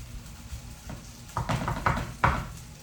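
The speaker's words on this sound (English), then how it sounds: "You hear the sizzling, that means it is cooking on the side." Chicken and rice stir-fry hisses and crackles in a pan, with a few louder spits and pops near the end against a steady low sizzle.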